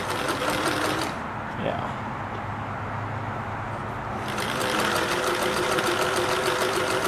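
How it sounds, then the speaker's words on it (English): A Singer Touch and Sew sewing machine stitching zigzag runs with a steady, close mechanical whir and rapid needle clatter throughout, dipping briefly in the middle before speeding back up, while a person talks over it. "now that the machine is stitching"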